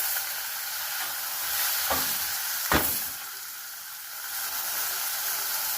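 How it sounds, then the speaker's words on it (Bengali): Turmeric and chilli powder sautéing in hot oil in a pan for a Bengali fish and okra dish, a steady loud sizzle with a few sharp spatters and stirring scrapes, no talking. "হলুদ গুঁড়ো একটু সাঁতলে নিয়ে"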